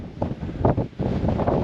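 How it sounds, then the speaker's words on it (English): Wind buffets the microphone on a Rocky Mountain National Park summit, a loud, low rumbling gust that surges and dips in uneven waves, close and unbroken. "this wind is killing me"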